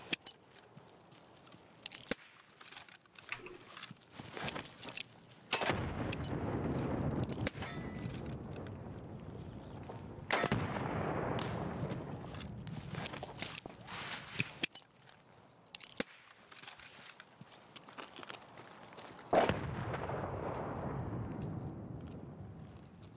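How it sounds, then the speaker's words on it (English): Bursts of video game combat, sharp gunshot cracks and several rumbling grenade-like blasts spaced irregularly through the clip, each swelling then fading, at a moderate level with no talking. "I think we hit him a little bit with the second grenade"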